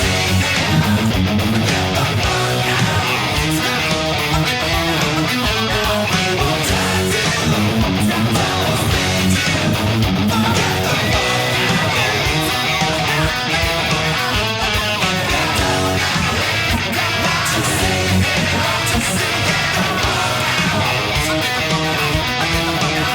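An electric guitar plays a funky chorus riff, a busy, driving rhythm part with dense strummed and muted hits that stays loud and continuous throughout.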